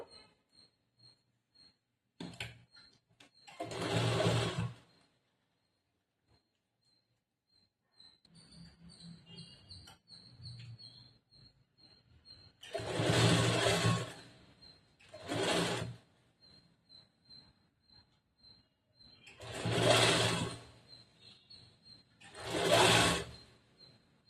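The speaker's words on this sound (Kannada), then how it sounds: "ಇವಾಗ ಇದೇ ತರ ಈ ಕಡೆ ಸೈಡ್ ಕೂಡ ಸ್ಟಿಚ್ ಮಾಡೋಣ." A sewing machine stitching a back-hook blouse runs in several separate bursts of rapid, close mechanical whirring, broken by quiet pauses and faint handling noises.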